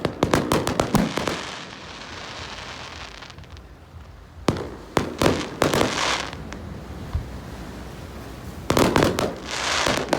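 Fireworks on a beach bang and crackle in several bursts, sharp loud reports separated by quieter stretches of fizzing and distant pops.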